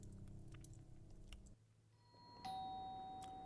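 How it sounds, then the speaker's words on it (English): A doorbell in the horror video game Deep Sleep: Labyrinth of the Forsaken rings once with a clear, sustained chime after a low droning hum cuts out and a short quiet stretch passes. "I heard the doorbell ring."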